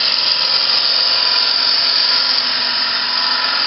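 A woodturning lathe spins near 1,500 RPM while the tool rides the bevel, giving a loud, steady, high-pitched cutting whine that holds without a break.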